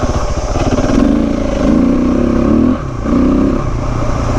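A KTM 690 Enduro motorcycle engine drones loudly and steadily while riding off-road on single track, swelling and easing with the throttle in a continuous close rumble.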